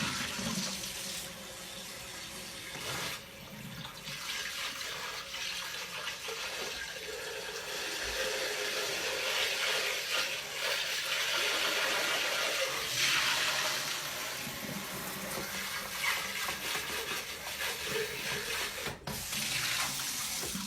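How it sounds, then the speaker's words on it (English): Running tap water pours over a cooking blender lid during rinsing at a sink, a steady close hiss and splash lasting the whole stretch with small shifts in the flow, no voices. "I'm going to rinse my lid"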